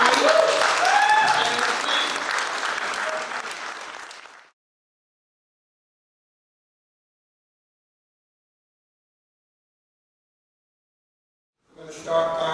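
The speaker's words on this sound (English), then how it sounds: "Let's give a round of applause to Zeke." Audience at a Baltimore primary election candidates forum applauds for about four seconds, the clapping tapering off into silence before talk briefly resumes at the end.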